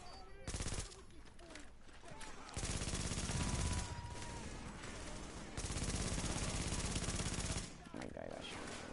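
Loud bursts of shotgun gunfire from the video game Tom Clancy's The Division, several blasts in quick succession with brief gaps between them.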